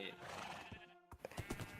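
A horse in a TV drama gives a loud, wavering whinny, then hooves clop nearby in a short, irregular run of hits.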